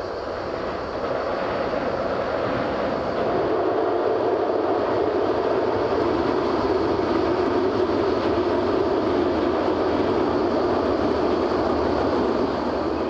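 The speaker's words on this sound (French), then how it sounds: "on entend aussi le bruit familier des trains" A steady, broadband rumble and rush of a train passing on the Côte Bleue line near Marseille, loud and continuous throughout, with no voices.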